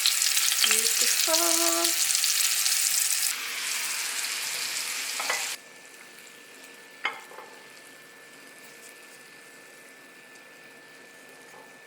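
Apple slices frying loudly in a pan, a hissing sizzle with scraping clinks as they are turned, the sizzle then dropping to a quieter hiss; a voice speaks briefly near the start.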